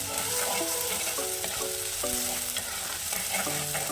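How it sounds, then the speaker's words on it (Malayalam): Crushed ginger and garlic fry in a pan, a steady dense sizzle with intermittent scraping clinks from a spoon stirring through it. "ഇതുകൂടെ ചേർത്ത് നന്നായിട്ടൊന്ന് ഇളക്കി ഇതിൻ്റെ ആ പച്ചക്കുത്തൊക്കെ ഒന്ന് മാറ്റിയെടുക്കണം"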